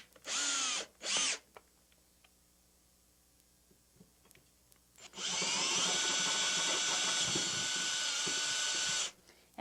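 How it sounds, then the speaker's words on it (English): A power drill reaming out a pilot hole to widen it for basement security bar screws, two short bursts followed by a long steady whine, loud and close with no talk. "And I just reamed it out a bit because you want a really clean hole"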